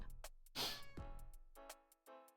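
A house cat meows repeatedly, several short, distinct cries spaced out over a couple of seconds, close and clear against a quiet room.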